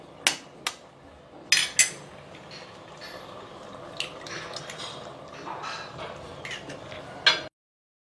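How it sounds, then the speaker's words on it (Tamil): Eggs cracked against a pressure cooker rim and poured over egg biryani rice, sharp clicks and taps at irregular intervals with soft wet shuffling between, close and fairly loud. "இப்போ முட்டையை நான் உடைச்சு ஊற்றிக்க போகிறேன்."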